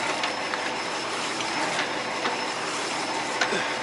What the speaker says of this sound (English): So as I crank it down, I'm looking for that gap to go away.